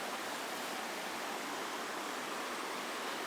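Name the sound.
river flowing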